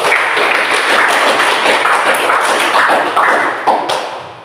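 A classroom applauds in a sustained burst of clapping lasting a few seconds, steady and fairly loud, then tapering off.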